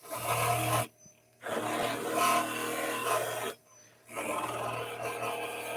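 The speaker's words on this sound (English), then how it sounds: "So again, we're nice and low. Bring it up. Polish the inside." Polishing the inside of a wood carving chisel held in a palm handle, kept low against the sharpening surface: loud, close rasping strokes, three long passes separated by brief pauses.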